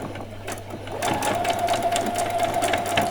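A sewing machine stitches the side seams of small doll jeans, first a quieter whir, then a steady, louder continuous hum for a couple of seconds with no talking over it.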